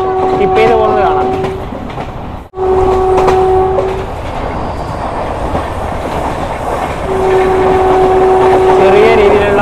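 A Humsafar Express train runs through Srirangam railway station, its loud continuous rumble and wheel clatter broken by sustained horn blasts near the start and again toward the end.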